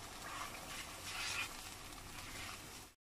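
Salt, red chilli and turmeric masala roasting in a pan for kadhi pakora, giving a steady close sizzle with stirring scrapes, louder around the middle, heard alone without talk.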